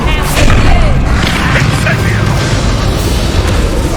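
An Incendio fire spell blast in the video game Hogwarts Legacy: a loud, booming burst that rolls into a sustained roaring rumble, with faint game voices in the background.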